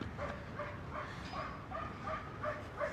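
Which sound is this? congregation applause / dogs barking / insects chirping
dogs barking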